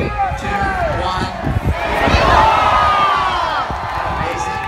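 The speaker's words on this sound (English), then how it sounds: "Everyone just say where you're from all together at the same time." A live crowd at Caesarea Maritima shouts the names of their home countries all at once, producing a loud, chaotic jumble of overlapping voices and cheers that swells and then settles over a few seconds.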